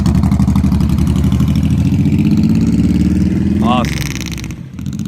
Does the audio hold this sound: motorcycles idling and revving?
yes